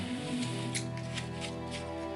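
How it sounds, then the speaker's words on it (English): Scissors round off the edges of a cut-out base for small Underdark scatter terrain, a few soft snips recurring at an even pace over a steady background hum, with no talk. "Once it's cut out, you can just take some scissors and just round out any edges like that."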